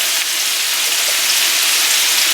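Canned chili beans draining in a kitchen, producing a steady, loud rush of liquid splashing that runs without a break and without any speech over it.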